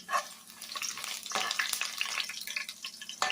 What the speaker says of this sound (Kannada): ಅದನ್ನೆಲ್ಲವನ್ನು ಫ್ರೈ ಮಾಡ್ಕೊಬೇಕು ಆಯಿಲಲ್ಲಿ.